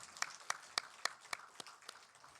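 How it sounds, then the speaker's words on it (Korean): A church congregation at a Sunday worship service applauds the choir in about eight evenly spaced, rhythmic unison claps, faint and distant. "우리 목자 성가대 다시 축복의 박수 하시겠습니다."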